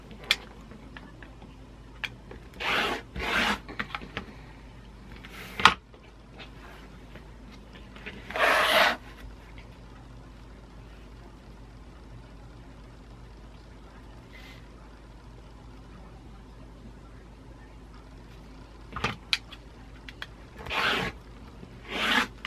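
A fabric strip is cut for quilt binding, with a few short rasping cuts and rubs, separated by quiet pauses and faint tapping, soft and close.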